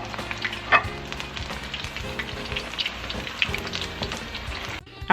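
Chicken pieces frying in hot oil for sweet and sour chicken, a dense continuous sizzle and crackle close by, with occasional pops and a utensil clink, no talk.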